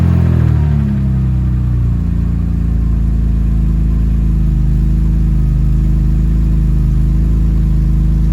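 A BMW E30 engine cranks, catches and settles into a loud, steady idle with a deep rumbling drone that holds for several seconds, no voices over it.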